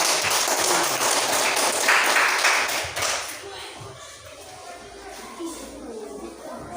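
A classroom of students claps for a classmate who has just presented during a teaching-practice lesson, the applause loudest at first and then fading into scattered taps and room noise.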